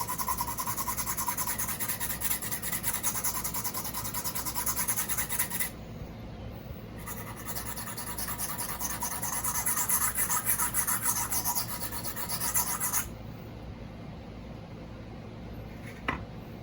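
Steady rasping strokes of a knife blade being thinned on a sharpening stone, a continuous gritty scraping that pauses briefly, resumes, then fades to quieter rubbing.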